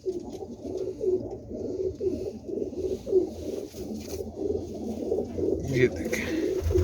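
A royal zeera pigeon coos in repeated soft, throaty rolls at a steady pace, close by, with a voice speaking briefly near the end.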